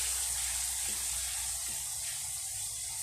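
Hot homemade Kerala-style mango pickle sizzling steadily after asafoetida powder is stirred in with the gas turned off, a soft continuous crackle with a couple of brief stirring knocks, alone and fairly faint.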